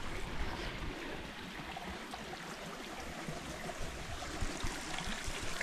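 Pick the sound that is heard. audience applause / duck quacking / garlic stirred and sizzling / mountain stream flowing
mountain stream flowing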